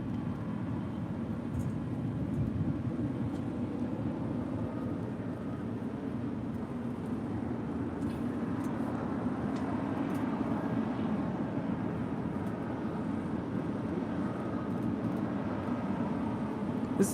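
A Philippine Airlines airliner rolls for takeoff at LAX, a steady distant broadband rumble and roar holding evenly with no voices over it.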